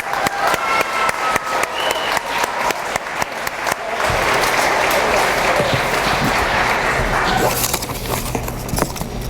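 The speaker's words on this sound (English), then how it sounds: "Parents, let's give our 8th graders a round of applause." Parents applaud 8th graders at a middle school continuation ceremony, with scattered nearby claps building into a sustained, dense wave of applause from a large crowd that tapers slightly near the end.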